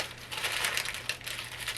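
Fabric is folded and pressed flat for knee darts, giving a close, soft crinkling and rustling that lasts under two seconds, with no talk.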